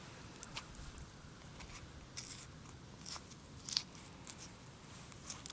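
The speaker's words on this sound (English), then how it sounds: "you can do it with a pair of real sharp scissors" Quiet, sharp snips of scissors cutting a bear hide recur every half second or so, each a brief crisp click against a soft background hiss, with no talking.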